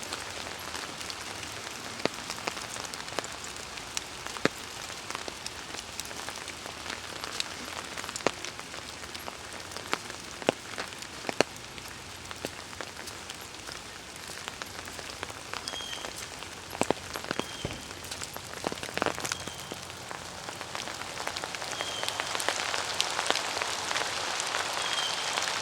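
Steady rain falls on a wooded trail in Athens, Georgia, a dense continuous patter of drops with scattered sharper splats and drips close by, no voices.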